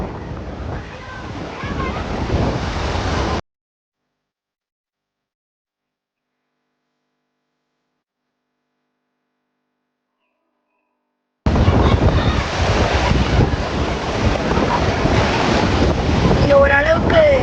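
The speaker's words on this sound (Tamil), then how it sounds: "ரொம்ப அலைக்கிட்ட போயிடாதீங்க, ரொம்ப வேகமாக வருதுன்னாங்க" Ocean waves surge and wash onto Pondicherry beach in a loud, continuous roar with wind buffeting the microphone, broken by a long silent gap before the surf returns.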